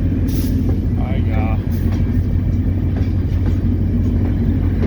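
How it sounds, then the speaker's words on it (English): An SD40-2 diesel locomotive pushing a ballast car along track gives a continuous heavy rumble with rolling rail noise, while a person talks loudly over it near the microphone. "We got our 3098 locomotive, our SD 40-2, pushing us."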